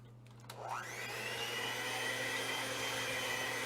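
An electric mixer starts up and beats brownie batter with eggs, its motor rising quickly into a loud, steady whirring hum that continues to the end.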